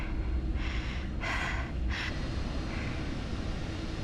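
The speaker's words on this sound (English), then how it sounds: "Why is her breathing so loud, dude?" A female character in the horror game Dead by Daylight breathes loudly in several heavy, gasping bursts over a constant low rumble, with no talk.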